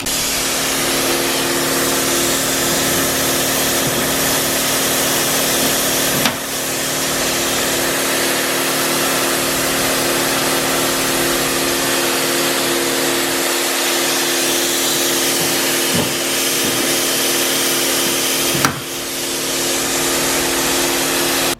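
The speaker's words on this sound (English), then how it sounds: "we have to drill them out so it can kind of explode into where it's supposed to go" A power drill runs steadily and loudly, drilling out rivets on a damaged car fender during a crash repair, with a continuous whine and a few brief dips where the bit pauses or catches.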